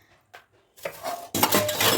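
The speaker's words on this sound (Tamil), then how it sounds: "கொஞ்சம் பாத்திரம்லாம் வந்து எடுத்து போட்டுட்ருந்தேன்" Metal pots and dishes clatter and clink as they are set down, a brief knock followed by a louder burst of rattling cookware.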